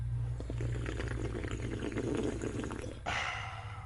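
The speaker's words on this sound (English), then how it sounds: "Just a second while I have a little water." Water being poured into a drinking glass, a steady close liquid splash and gurgle that ends abruptly near the end, alone with no talking.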